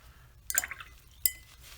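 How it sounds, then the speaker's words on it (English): A watercolor paintbrush is rinsed in water, producing a quick burst of close liquid swishing and a bright clink of the brush against its container, followed by a second faint tap. "we're going to rinse our brush"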